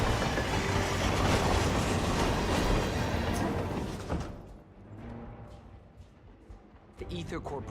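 Train rolling along its track in the game Hitman, a loud, steady rumble with rattling wheels for about four seconds that then drops to a quieter, muffled clatter.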